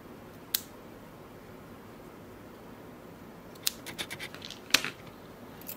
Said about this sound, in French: je prends mon ciseau et je coupe